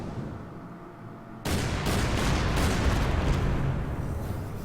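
Battleship naval guns fire in the Order of Battle game, a sudden loud blast and then a dense, rumbling barrage of overlapping booms.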